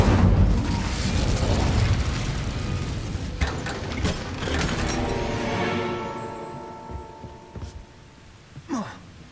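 Incendio fire spell cast in Hogwarts Legacy, a loud rushing, roaring burst of flame that swells and crackles for several seconds before tapering off, followed by a few softer magical pops and a short whoosh near the end.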